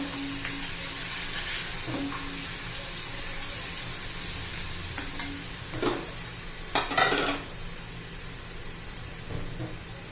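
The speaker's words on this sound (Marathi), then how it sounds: "हिरवी मिरची चांगली तेलामध्ये परतून घ्यायची, कच्चेपणा जाईल तोपर्यंत" Green chili and garlic fry in oil, a continuous close sizzle with occasional stirring clatters and scrapes from a spoon against the pan.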